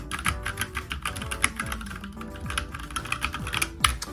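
Rapid clacking keystrokes on a Logitech computer keyboard, close and steady, with dense irregular taps and a few heavier key hits, heard alone without any voices.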